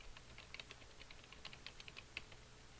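Quiet, rapid keystrokes tap on a computer keyboard in short irregular bursts, close and faint, with no talking over them.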